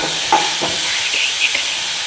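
Chopped karumathi pieces drop into a hot pan for pickle, giving a steady close sizzle and hiss with a few soft stirring knocks, no voices.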